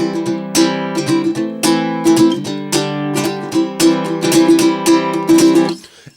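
A Flight Aviator baritone ukulele strummed hard in quick, rhythmic chord strokes, bright and close, with the last chord fading at the end.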